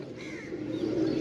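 Indian-breed pigeons cooing at close range, a steady low murmuring coo that swells slightly toward the end, with faint bird chirps above.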